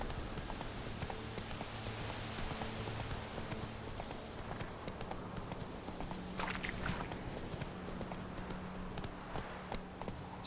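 Roach the horse galloping across open ground in The Witcher 3, a steady, quick clip-clop of hooves running throughout over a low ambient bed, moderately near.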